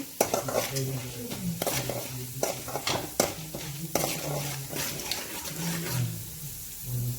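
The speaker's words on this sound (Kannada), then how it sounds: "ಇದೊಂದು ಸ್ವಲ್ಪ ಕಡಲೆಬೇಳೆ ನೀಟಾಗಿ ಎಣ್ಣೆಯಲ್ಲಿ ಫ್ರೈ ಆಗಲಿ." Chana dal fries in oil in a pan, a light crackling sizzle mixed with repeated metal stirring clinks and utensil clatter, close and uneven in rhythm.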